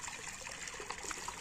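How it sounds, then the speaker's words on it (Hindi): Water running continuously from an outlet at an outdoor spot, a steady, even trickling gush with no pauses, fairly close and heard alone. "ये पानी मतलब कितना वेस्ट हो रहा है आप देख सकते हैं, और ये कंटिन्यूसली चला रहता है"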